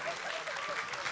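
Audience clapping for married-couple contestants on a game show, a brief dense patter of applause with a voice or two mixed in.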